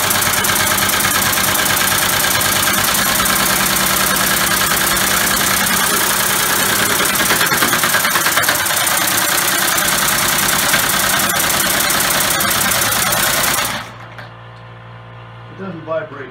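A homemade air motor runs loud and steady, its rapid mechanical chatter and hiss holding constant for about fourteen seconds before cutting off abruptly, leaving faint knocks and a quiet tail.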